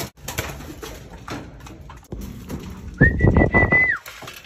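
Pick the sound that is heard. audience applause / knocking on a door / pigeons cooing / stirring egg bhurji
pigeons cooing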